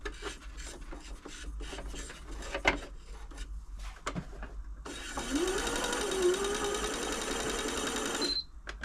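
A Janome Atelier 6 sewing machine being serviced runs steadily for about three and a half seconds with something rubbing inside, following quieter handling noises and ending abruptly.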